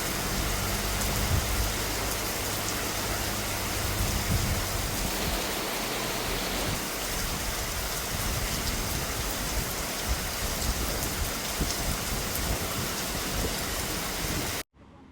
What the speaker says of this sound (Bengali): আর বৃষ্টির এতটা শব্দ